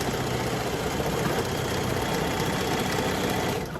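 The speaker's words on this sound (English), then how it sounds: "I'm gonna do a back stitch to make sure that this locks into place" A sewing machine back stitching curtain fabric from Goodwill, a continuous fast mechanical whir with rapid needle chatter, close and steady, stopping abruptly at the end.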